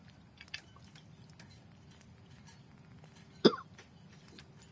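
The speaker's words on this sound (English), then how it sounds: "Sorry for the coughs, guys." A person coughs sharply once, a single loud burst close to the mic, after a faint earlier catch in the throat, over quiet background noise during a Fallout 4 gaming session.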